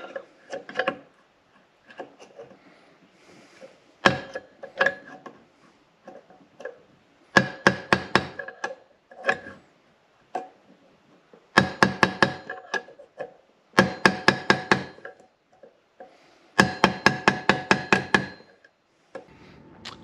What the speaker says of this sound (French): Là maintenant au burin.